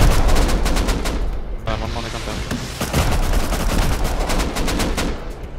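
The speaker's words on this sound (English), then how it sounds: "I'm rocketing the base." Heavy gunfire rattles in rapid automatic bursts with booming impacts during a rocket raid on a base in the video game Rust, loud, dense and nearly continuous throughout.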